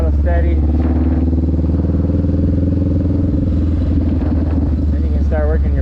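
A motorcycle ridden in slow practice circles around a pole at a steady throttle gives a continuous, even engine drone close by, with someone talking over it throughout.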